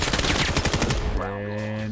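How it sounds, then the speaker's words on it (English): Rapid automatic gunfire from the VR shooter game Vail rattles loudly through the first second of a competitive qualifier match, giving way to a steady tonal hum. "And no luck for him as Cray gets the shot"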